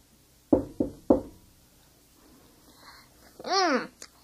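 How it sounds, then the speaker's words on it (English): Three loud, sharp knocks on a door in quick succession, close and distinct, followed after a pause by a brief high vocal sound. "she knocked on the door loudly, but got no answer"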